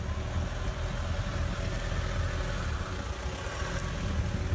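A car pulls away in first gear into snow with traction control on, its engine a steady, loud, close drone with a broad rumbling wash and no talk.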